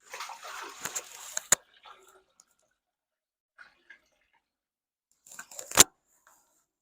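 Water is poured into a bucket for a homemade hydroponic system, giving a short burst of splashing and sloshing, then a few small drips and knocks, and a second sharp splash near the end.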